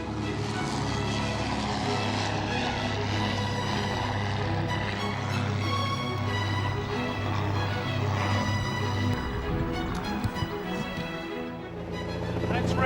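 A loud, steady propeller aircraft engine roars throughout, building and shifting in tone as the plane takes off, with no pauses.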